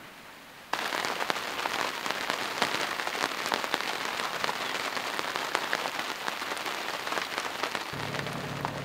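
Steady rain patters densely on a sailboat nearby, starting abruptly after a moment of quiet and continuing without a break.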